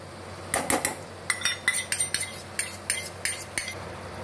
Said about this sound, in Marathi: हे पहा, असं चांगलं मिक्स करून घ्यायचं.